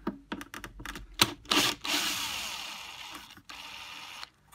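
Screws are removed from the housing of a Vax 6131 wet and dry vacuum, with close plastic clicks, taps and handling rattles followed by a sustained scratchy rasp of a screwdriver turning.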